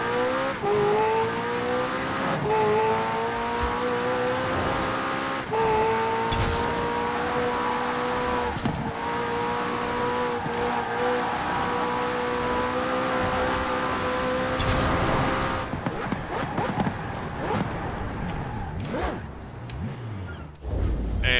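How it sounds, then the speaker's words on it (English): A 2018 McLaren Senna engine in the racing game Forza Horizon 4 drones at steady high revs with a rising whine, then shifts and surges near the end, loud and continuous without talk. "This time I was using the 2018 McLaren Senna"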